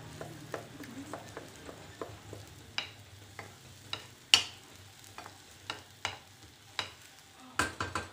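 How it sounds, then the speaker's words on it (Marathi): Masala for an omelette curry sautéing in a pan: a faint, low sizzle broken by regular sharp clicks and scrapes of a spatula against the pan, fairly close and with no talk. "आता हे परतून झालं आहे"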